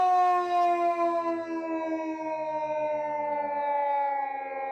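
A large hand-cranked civil defense siren winds a steady, loud rising wail with layered harmonic tones that slowly sag in pitch over several seconds, sounding alone with no voices.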